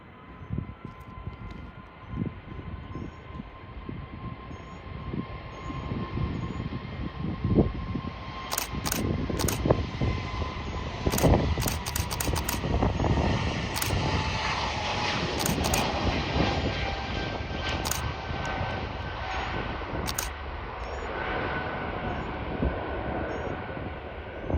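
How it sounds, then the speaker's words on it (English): An Air Canada airliner departs Sacramento SMF for Toronto with a broad roar of jet engines that swells and holds throughout, heard from a distance outdoors, with repeated camera shutter clicks over it. "And off she goes to Toronto Pearson International Airport. Wow. Very nice departure"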